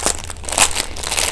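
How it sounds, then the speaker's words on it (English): A plastic bag of diamond painting drills crinkles and crunches close up, quick rustling handling sounds with no talking. "The plastic bag feels the same as the last one though"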